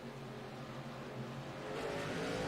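A field of stock cars, led by a Toyota Camry, roars away at a green-flag start on an oval track in Kansas, engines swelling into a dense, loud rising drone with no commentary over it.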